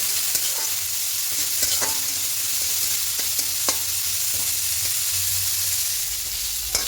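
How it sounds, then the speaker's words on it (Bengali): Flat beans with salt and turmeric fry in a pan with a loud, continuous sizzle close by. Frequent light scrapes and clicks from stirring come through clearly. "এবার শিমটাকে ভেজে দেবো।"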